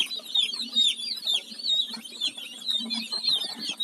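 Young chicks in a rural yard, a flock peeping and clucking in high, rapid chirps that overlap continuously, with soft low clucks from nearby fowl underneath, close and fairly loud.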